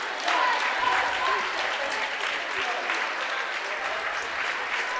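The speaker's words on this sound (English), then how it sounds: "He gets a nice round of applause from the PCHS fans" PCHS fans applaud a substitute checking in at a high school basketball game at Dexter, a warm, sustained burst of clapping and crowd noise in a gym, with a commentator talking over it.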